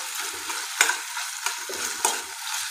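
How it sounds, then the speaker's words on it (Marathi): Vegetables for cabbage manchurian stir-fried in a pan over low heat: a steady soft sizzle broken by sharp scraping clicks of the spatula at irregular intervals, close and moderately loud, with no talking. "त्यासाठी आपण याला असं 2 मिनिटं परतून घेऊया।"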